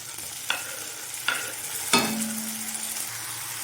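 Chopped tomatoes sauté with ginger garlic paste in a pan for a beans masala gravy: a soft steady sizzle broken by three sharp spoon scrapes against the pan.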